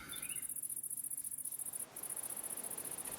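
Bees in the Minecraft video game give a steady, pulsing insect-like buzz that holds throughout at moderate level, with no talking.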